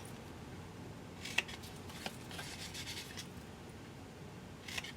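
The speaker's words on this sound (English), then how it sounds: "we're going to take our scissors and we're going to cut up to the score line" Scissors snip through card stock up to a score line while making a small card box, with quiet scattered crisp cuts and light rustling over a faint hiss, no voices.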